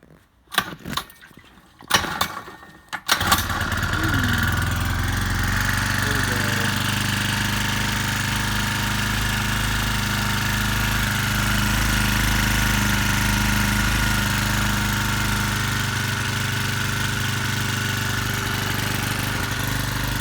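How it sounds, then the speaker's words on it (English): A 49cc four-stroke motorized bicycle engine is pulled through a few sputtering start attempts, then catches and settles into a steady, loud, close idle that runs without a break. "Let's start this engine up."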